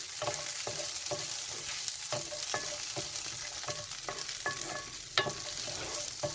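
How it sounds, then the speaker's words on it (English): Green and red chilies sizzling and frying in a spoonful of oil in a pan, a steady hiss under repeated stirring clinks and scrapes, close and moderately loud with no talking. "Roast these green chilies and red chilies."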